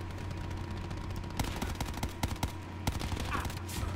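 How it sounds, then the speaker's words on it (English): Gunfire in Call of Duty Black Ops 4 multiplayer on Xbox One: sharp, scattered shots of mid loudness crack over a constant low game hum, with the reports coming in irregular bursts. "They're sniping."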